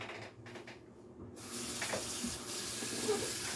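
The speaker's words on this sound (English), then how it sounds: "Gotta rinse my hands off a minute." A kitchen faucet is turned on partway through and runs steadily for a hand rinse, the water stream close and constant after a short quiet start.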